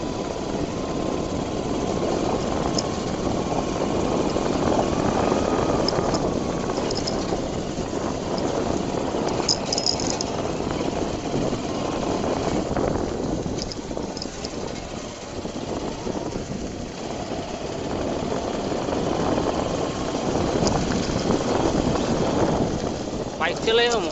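A motorcycle rides along an off-road forest track near Mulchera village in a Maharashtra jungle. Its engine drones steadily and continuously throughout while riders talk over it.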